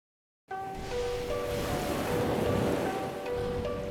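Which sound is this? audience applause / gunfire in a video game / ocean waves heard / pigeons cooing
ocean waves heard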